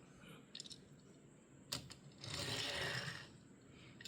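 A Tomica Mazda Roadster die-cast toy car rolls across a surface with a rattling, whirring clatter. Brief clicks come first, then a louder gritty burst of wheel noise that lasts about a second before fading, all fairly faint.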